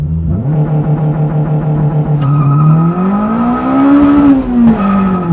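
A mapped Honda Civic Type R EP3 holds revs, then launches from a standstill as the engine note climbs loud and close, with a squeal of tires as it pulls away.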